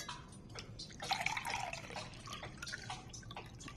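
Water trickles and splashes faintly as it is poured into a cup to fill it, a soft, close liquid sound lasting a few seconds at low volume.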